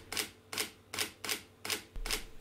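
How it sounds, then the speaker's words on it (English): A Sony A7 III mechanical shutter fires in high-speed burst mode, six crisp clacks in an even, rapid rhythm, close and loud with nothing else around them. "In high, mechanical shutter, shooting full manual, extra fine JPEGs to a freshly formatted UHS 2 card, I clocked 8 images per second"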